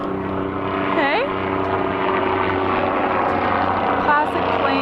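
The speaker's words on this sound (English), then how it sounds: "Classic plane helicopter shot." A helicopter passes overhead near the Golden Gate Bridge on San Francisco Bay, its rotor drone steady and fairly loud throughout, with a voice talking over it and a brief whistling sweep early on.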